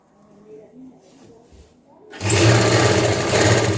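After a quiet stretch with a soft voice in the background, a sewing machine starts up loud and close, running steadily while stitching a pant waist seam.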